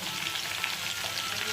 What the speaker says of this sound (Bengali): ভালো করে নেড়ে চেড়ে নুন হলুদটা মিশিয়ে দেবো।